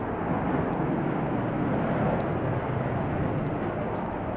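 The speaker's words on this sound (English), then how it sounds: "There's another jet." A military jet flies over near a Marine Corps Air Base in a San Diego canyon, a steady, loud broadband roar that fills the whole stretch without letup and with no talk.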